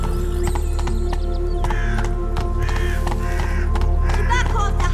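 The hooves of Roach, a horse in The Witcher 3: Blood and Wine, clip-clop in a steady rhythm, loud and near, with faint clinking tack and a voice speaking over them.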